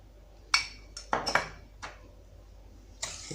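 A spoon stirring a Turkish-style dessert mixture with cornstarch and vanilla in a pot, several sharp metallic clinks and scrapes against the pot sides spaced irregularly with quiet gaps between.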